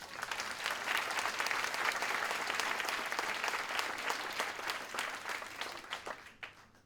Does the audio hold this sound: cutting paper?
no